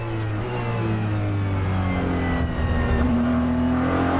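Two Ferrari race cars run side by side at an ELMS race in Barcelona, their engines droning loud and steady from onboard, with pitch slowly rising and shifting as they accelerate.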